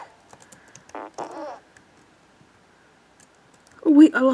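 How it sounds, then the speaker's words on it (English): Cartoonish fart noises from the video game Crop Duster Supreme, a few short bursts with one loud, close blast at the end, with a player talking and soft keyboard clicks in between. "Just fart on you guys real quick."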